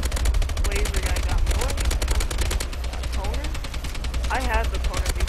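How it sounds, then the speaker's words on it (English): Rapid bursts of automatic gunfire from shooting down a Warbird in Call of Duty: Advanced Warfare, loud and rhythmic, broken by short pauses, with someone talking excitedly over it. "I'm shooting down this Warbird."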